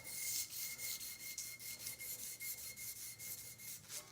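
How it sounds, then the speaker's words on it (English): A small hand-fabricated metal pendant held in pliers is sanded to remove oxidation, giving faint, rhythmic back-and-forth rasping strokes about twice a second, close and steady. "I can just sand some of the oxidation off of it."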